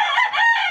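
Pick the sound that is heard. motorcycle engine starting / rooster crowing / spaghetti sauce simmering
rooster crowing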